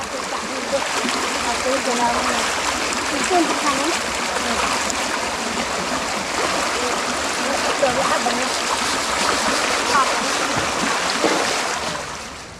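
A river flows steadily beside a wild bitter melon patch, with continuous rushing and splashing water close by for the whole stretch and faint background voices under it.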